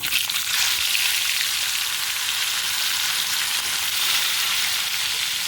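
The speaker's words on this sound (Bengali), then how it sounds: "ওই তেলের মধ্যে আরও দুটো মাছ আমি ভেজে নেব" Fish sizzle steadily in hot oil in a home kitchen, a dense, continuous crackle that stays loud and even throughout with no voices.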